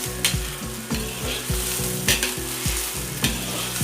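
Masala sizzling and frying in a karahi for mutton liver curry, with a spoon stirring and scraping the pan in steady strokes, close and continuous.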